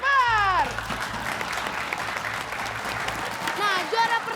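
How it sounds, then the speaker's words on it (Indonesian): An audience applauds for a rapper contestant at a comedic stage show, a sustained crowd clapping heard after a short announcer line and under music, with another brief voice near the end. "Kalau tepuk tangan buat si rapper."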